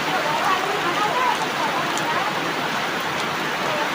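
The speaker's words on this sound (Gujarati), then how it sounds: "જોરદાર વરસાદ ચાલુ થઈ ગયો છે." Heavy evening rain pours down steadily outdoors in a dense, continuous hiss that stays loud and unbroken throughout, with no talking heard over it.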